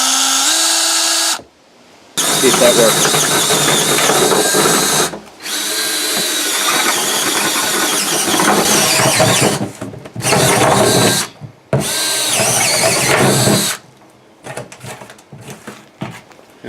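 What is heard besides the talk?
power drill with 1-inch spade bit drilling drainage holes in pot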